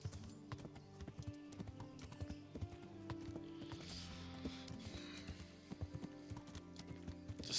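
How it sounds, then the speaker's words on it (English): A horse gallops in the medieval video game Kingdom Come: Deliverance, its hooves striking in a quick, even clip-clop rhythm over sustained background music tones. "This is a way better horse than what I had in part 1 walkthrough."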